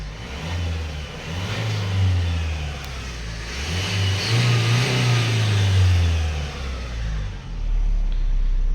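A Vauxhall Insignia's engine revs up and down repeatedly, its deep rumble rising and falling in pitch, loud and close with no talking.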